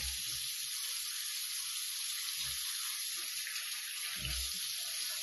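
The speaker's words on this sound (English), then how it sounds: "Now I just washed my face." Tap water runs steadily while a face is washed clean of a sandalwood face pack. The gushing flow stays loud and continuous throughout, with a few soft low thumps of splashing hands.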